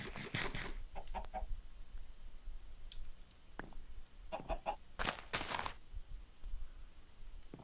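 Chickens in the Minecraft modpack Agrarian Skies cluck and click in short repeated bursts over a steady low background hum, moderately close, with no one talking.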